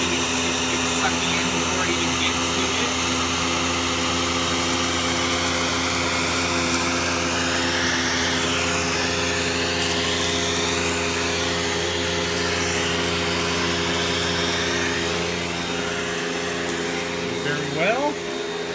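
Panasonic Jet Flo vacuum cleaner with extension wands and upholstery tool running continuously, a loud steady motor whine and airflow roar with slight shifts in pitch as the tool moves, fading slightly near the end.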